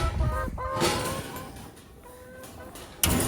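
Hens cluck close by in a few short, throaty bursts, followed by a sharp knock near the end.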